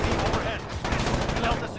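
Rapid gunfire in a Call of Duty: Modern Warfare open beta match, dense overlapping shots filling a short burst with a faint voice mixed underneath.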